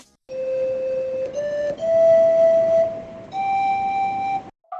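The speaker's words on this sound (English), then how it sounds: "his friend playing a flute which sounds like this" Several sustained flute notes are played one after another with short gaps between them, each held steadily over a soft hiss of background noise.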